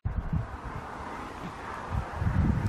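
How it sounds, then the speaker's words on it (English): Strong wind buffeting the microphone on an exposed hilltop outdoors, a rough low rumbling roar that gusts louder at the start and again near the end, with no voices. "it's still windy as hell up here"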